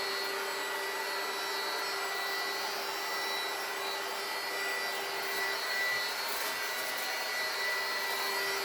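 A heat gun blows a steady, close, continuous whooshing roar while shrinking plastic wrap on a large Easter basket, with no talking.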